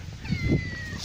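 One short cat meow, nearby and moderately loud, holding a steady pitch over a low rumbling background.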